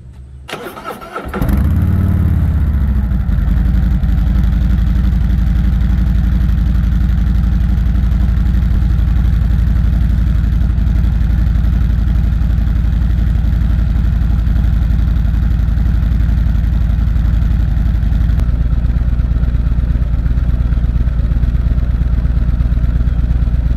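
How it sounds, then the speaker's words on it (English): A 2022 Harley-Davidson Road Glide Limited on its stock pipes cranks briefly, fires up from cold and settles into a loud, steady, throbbing idle that runs on close by. "I'm going to give you a sound test of what the stock pipes sound like. So here we go with a cold start."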